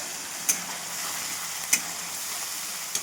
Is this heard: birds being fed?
no